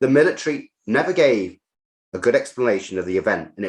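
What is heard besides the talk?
No everyday noise stands out behind the speech.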